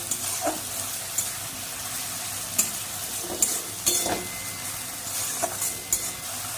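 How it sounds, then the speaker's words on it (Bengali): A paste of ginger, garlic, tomato and green chili fries in a pan for chicken kasha, giving a steady close sizzle with repeated scraping stirs and clinks of the spoon against the pan. "আদা, রসুন, টমেটো, কাঁচা লঙ্কা পেস্ট খুব ভালো করে কষে নেব"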